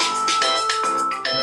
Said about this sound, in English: Is that a flip phone ringtone?